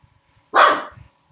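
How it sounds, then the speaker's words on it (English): A puppy gives one loud, sharp bark close by indoors, a single short yap standing alone against near silence. "Don't you bark while I'm making a video, puppy."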